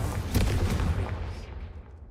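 A Confringo blasting spell goes off in Hogwarts Legacy with a loud, booming burst and crackling impacts, then fades into a tail of rumbling echoes over about two seconds.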